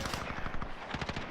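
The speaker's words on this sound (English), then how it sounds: "I get another long shot here." Rapid gunfire in Call of Duty: Modern Warfare from a 725 shotgun loadout, a dense, loud burst of overlapping shots with a quick rhythmic pattern and no voices.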